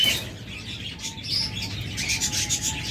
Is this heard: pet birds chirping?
yes